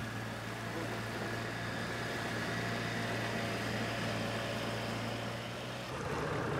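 Sailboat engine running with a steady low drone and constant hum throughout, then cutting out near the end as the sound changes.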